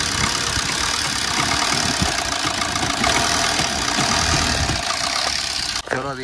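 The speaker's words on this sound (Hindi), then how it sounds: "अभी गाड़ी चालू गई" A steady car engine idles loudly and continuously after starting, with a brief shift in pitch near the end as it revs or settles.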